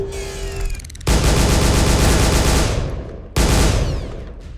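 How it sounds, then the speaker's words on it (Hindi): Rapid movie gunfire bursts out loudly in a dense, continuous volley, breaks off, then a second burst starts before trailing away. "गोली चलाओ।"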